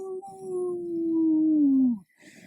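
A person imitates a howling dog or wolf with one long, sustained vocal howl that slides downward in pitch and then cuts off, loud and close.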